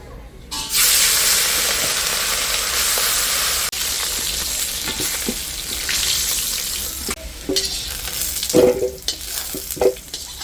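Whole cumin seeds, bay leaf, cardamom, chilli and ginger sizzle loudly in hot oil for a Bengali katla fish curry, a steady hissing fry with occasional stirring clinks toward the end.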